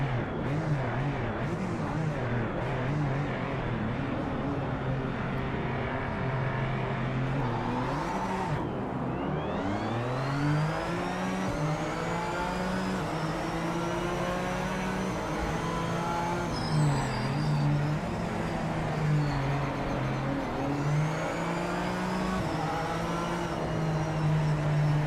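Several race car engines in the VR game Project Motor Racing roar and whine continuously, pitch rising and falling as they shift gears and accelerate, a dense, unbroken motor drone throughout.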